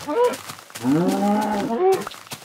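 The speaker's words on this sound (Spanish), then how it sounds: "Vacas, muchas vacas aquí." A cow in the video game Minecraft gives a drawn-out, low moo, loud and close, framed by short sounds before and after it.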